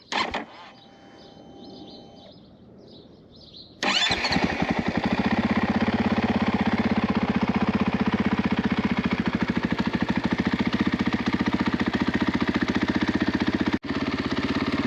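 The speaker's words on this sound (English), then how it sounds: "This is the cold start, idle, and throttle blip test, Athena SX1" An Athena SX1 motorcycle cold-starts after a faint electronic fuel pump whir, then settles into a loud, steady, close idle with a rapid rhythmic chug that holds for about ten seconds, with one brief dip near the end.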